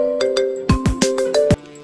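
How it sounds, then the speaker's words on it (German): A mobile phone rings with a short electronic melody, a quick sequence of bright tonal beeps in a rhythmic pattern, close and clear, with no talking during it. "Oh, mein Handy klingelt."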